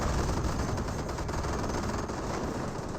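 A scoped rifle squad fires steadily in a Company of Heroes battle, a dense, loud clatter of rapid gunshots mixed with wider battlefield fire, continuous over the whole stretch with no talk.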